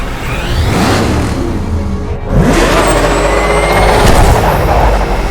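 Batmobile engine from the Batman Arkham Knight video game, a loud continuous roar with revving surges and a brief dip midway before swelling back up.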